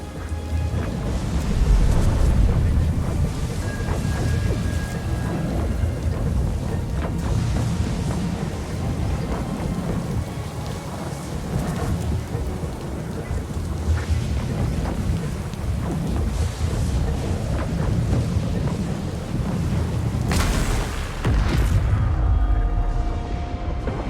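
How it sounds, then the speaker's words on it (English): In Pillars of Eternity II, a storm-controlling machine winds down amid a steady wash of rumbling thunder, rain and wind that lasts throughout and ends in a heavier surge. "The machine controlling the storm winds down."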